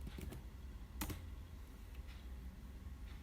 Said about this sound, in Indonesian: Ketika mengetik perintah net,